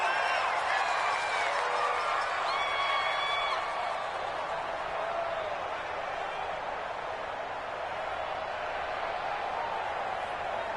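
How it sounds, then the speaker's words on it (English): A stadium crowd in a football video game swells into a broad, steady roar that stays at a moderate level throughout, with a commentator's voice talking over it. "the crowd getting into it as we come up on a big 3rd down"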